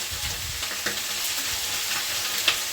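Broccoli fries unsalted in a hot pan, giving a steady, close crackling sizzle with scattered louder pops throughout, and no one speaks over it.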